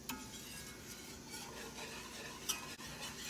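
A roux of oil and flour being stirred in a pan on medium-high heat, a soft continuous scraping and faint sizzle with an occasional light clink of the utensil against the pan.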